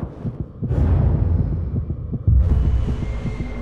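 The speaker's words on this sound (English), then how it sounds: "I can hear my heartbeat in my ears." A deep, steady heartbeat sound effect thumps in a regular rhythm under a low droning hum, loud and close, with the tone shifting partway through.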